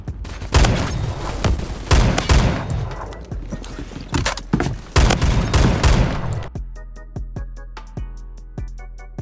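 A Saiga 12 semi-automatic shotgun fires in the video game Phantom Forces as a fast string of loud, booming shots, then a quicker run of sharper blasts with clicking in between, with no talk over them.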